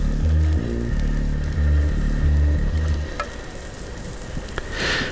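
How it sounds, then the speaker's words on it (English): Ingredients sizzle steadily in a pan over low heat outdoors on a south coast trip, a continuous close frying hiss with low engine-like rumble underneath and a couple of faint clicks. "we've been sizzling away now for a good, 10 minutes or so, just on low heat"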